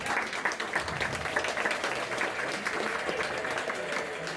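Crowd applause at a 70th birthday celebration, continuous clapping from many guests throughout, with a faint murmur of voices mixed in underneath.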